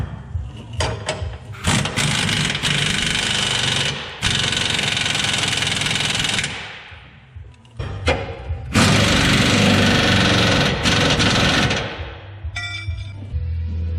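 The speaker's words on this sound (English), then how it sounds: "I'm just gonna give her hell with a 1/2 inch impact." A 1/2 inch impact wrench hammers traction bar bolts tight on a Dodge Ram Cummins truck. Short rattling bursts are followed by two long, loud runs of hammering, separated by quieter gaps with no speech.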